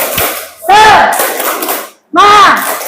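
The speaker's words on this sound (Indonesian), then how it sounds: "Kita tepuk semangat ya" Classroom group spirit clap and chant: voices shout in unison in two loud bursts, with rhythmic clapping and crowd noise between them, close and energetic.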